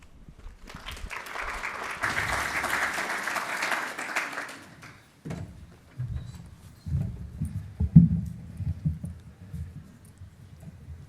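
Conference audience applause welcoming a speaker at a food waste industry event, several seconds of steady clapping that fades out into shuffling and footsteps.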